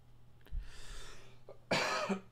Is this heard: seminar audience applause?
no